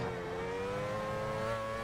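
A Formula 1 car engine in F1 Challenge 99-02 drones at high revs, its pitch climbing slowly in a loud, continuous whine.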